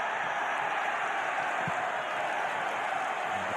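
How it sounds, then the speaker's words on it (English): Partisan football crowd inside the stadium at an FA Cup tie between Newport County and Manchester United, a steady dense roar of cheering and noise that holds throughout with no clear breaks. "And the crowd, as you can hear, pretty partisan."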